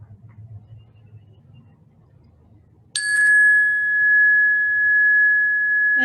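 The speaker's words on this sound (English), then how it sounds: "And in hearing the sound of the bell, inviting the pen to place down." A single meditation bell struck once during a quiet practice session, ringing out clearly after near silence and sustaining a long, pure shimmering tone that slowly fades, with faint low room rumble beforehand.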